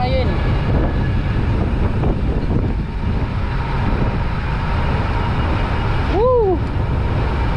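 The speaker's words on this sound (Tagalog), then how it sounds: "lakas ng hangin mga kabiyahe" Strong wind roaring and buffeting against the microphone during a motorcycle ride on a Philippine road tour, a loud continuous rushing blast throughout, with a brief whistling tone near the end.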